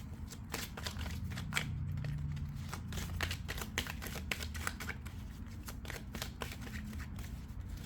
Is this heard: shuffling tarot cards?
yes